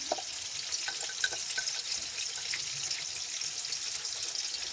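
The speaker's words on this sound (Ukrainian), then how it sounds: "Ось воно в мене смажиться" Steady hiss and crackle of food frying in a pan, continuous and close, with small pops scattered throughout and no voices.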